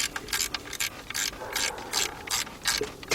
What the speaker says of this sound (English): take my 1/2-inch drive, my 1/2-inch 3/8 drive ratchet, and I'm going to tighten up this bolt right over here